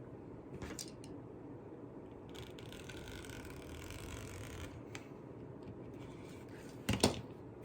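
Scissors snip through silver and white pipe cleaners, with a couple of brief, crisp cuts near the end standing out from soft rustling and handling noise.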